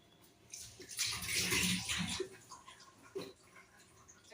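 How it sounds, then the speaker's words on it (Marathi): Water poured into buttermilk while making mattha, a short splashing pour that rises and fades, followed by a few faint liquid trickles nearby. "थोडं पाणी घालूया, नाही का?"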